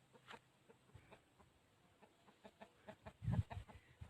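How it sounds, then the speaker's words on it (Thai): Chickens on a farm clucking in short, scattered calls, one louder burst near the end, moderately close with quiet background between calls and no speech. "ไก่ตัวใหญ่นี่พี่น้อง ไก่ตัวใหญ่นะ"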